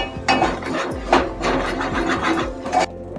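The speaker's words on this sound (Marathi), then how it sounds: "आता भाजून परतून घेऊया जरा." Chana dal dry-roasting in a pan while a spatula stirs it, giving irregular rasping scrapes and woody scuffs over a steady, low background tone.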